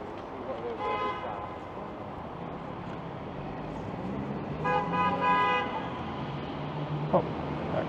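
Car passing on a downtown Toronto city street near Church Street, with horn toots heard amid steady traffic noise; people talk faintly in the background.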